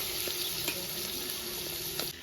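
Prawns frying in oil in a pan give a steady close sizzle, with a few light scrapes of stirring throughout and no talk.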